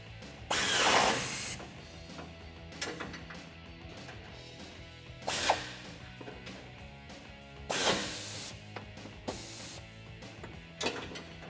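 Socket ratchet tightening 14 mm nuts onto factory studs to mount a bull bar bracket on a 2015-2019 Toyota Tacoma, with brisk clicking ratchet bursts separated by pauses and quieter handling of metal parts.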